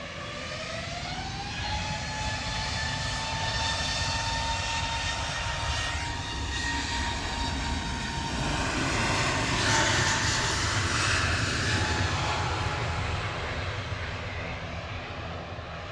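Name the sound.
aircraft engine of plane at Manchester Airport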